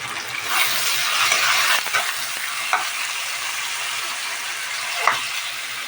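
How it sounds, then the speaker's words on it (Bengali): Potatoes coated in salt and turmeric frying in hot oil give a continuous loud sizzle with a few stirring scrapes and clinks, no talking. "এখন আলুগুলো ফ্রাই করে নেব লবণ হলুদ মাখিয়ে"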